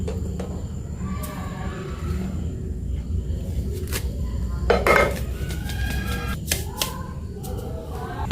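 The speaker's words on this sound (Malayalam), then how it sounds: "ഇനി എന്നാലും ഇതൊന്ന് അരിച്ചെടുക്കാം." Homemade sambar spice powder being sieved in a kitchen, with scattered tapping, clinking and scraping of a metal sieve and vessel at close range, irregular and fairly soft, over a low background rumble.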